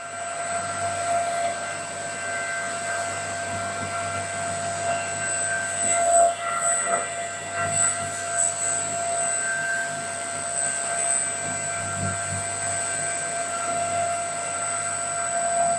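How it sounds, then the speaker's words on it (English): A booster pump is running under VFD control, giving a faint, steady electrical whine with several high tones over a low motor hum, under a low noise floor. "So now you can see the frequency is reducing and pump speed will also reduce."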